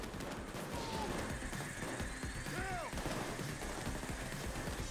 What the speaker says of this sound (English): There's some inside, they're shooting me.